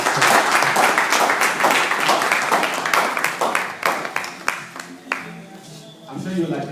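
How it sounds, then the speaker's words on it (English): Audience applause following a talk on the slave trade, a crowd clapping loudly and densely at first, then thinning into scattered individual claps that fade out as a voice begins speaking at the end. "A big round of applause for this"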